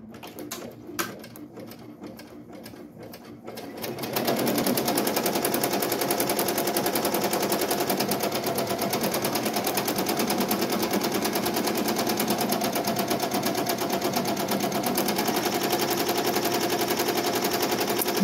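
An embroidery machine runs a continuous satin stitch on an appliqué design, its rapid needle chatter loud and steady after a few sparse stitches at the start.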